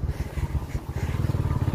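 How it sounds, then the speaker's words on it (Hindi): A motorcycle engine idles close by on a cold winter day in a village, a steady low throbbing pulse running continuously with no voices over it. "बाइक अभी तक भी स्टार्ट रखी है"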